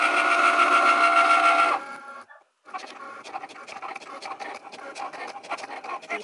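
A Cricut machine cuts heat transfer vinyl with a loud steady whirring buzz that stops abruptly. A brief pause follows, then quieter intermittent clicks and scratchy movements.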